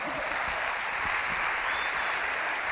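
Audience at an Amway celebration event applauding loudly as a woman named Vinita walks on stage, a dense, steady wash of clapping that holds evenly throughout with no break.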